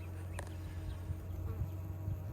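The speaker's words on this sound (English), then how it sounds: "This one here is actually checking everybody as they come in, make sure they belong. So that's a guard bee." Honey bees buzz steadily at a hive entrance among blooming flowers, a dense, continuous drone of many wings close by with no voices.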